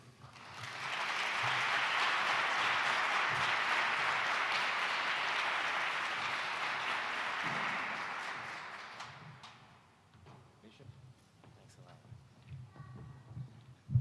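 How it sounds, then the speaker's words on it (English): A room of people applauds for Bishop Herman Ware of a Baptist church at a neighborhood community gathering, steady sustained clapping lasting several seconds before dying away into quiet room noise and a voice. "Can I have a hearty applause for Mr. Bishop Herman Ware, please?"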